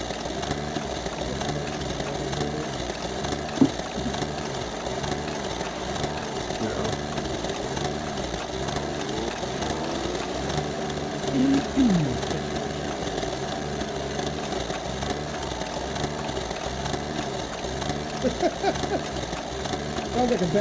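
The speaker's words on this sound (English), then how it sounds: "Sounds like a bad lawnmower." Rough, unrepaired video game vehicle engine idling and revving like a bad lawnmower, a steady buzzing drone with knocking pulses throughout, with voices talking over it.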